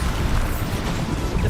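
A Bombarda spell in Hogwarts Legacy goes off as a loud, dense burst of explosive rumble and crashing debris that fills the whole moment at close range.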